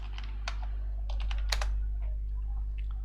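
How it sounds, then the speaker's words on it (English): Someone types a search term on a computer keyboard, with quick close bursts of key clicks over a steady low hum. "let's type the term free pics"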